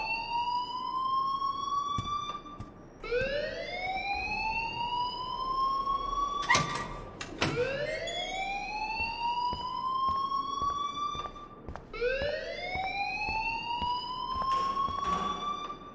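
Repeating electronic alarm in the video game Life is Strange, each rising siren-like sweep lasting a few seconds and looping steadily, loud and continuous with a couple of sharp clanks in the middle.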